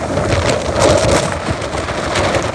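Strong gusting typhoon wind from Typhoon Hagibis roars close to the microphone, buffeting steadily with a dense wash of heavy rain underneath, no talking.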